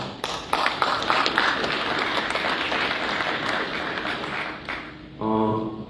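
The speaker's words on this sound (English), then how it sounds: "Let's give him a round of applause." A conference audience applauds in a steady round of clapping lasting several seconds, then fades as a voice or tone takes over near the end.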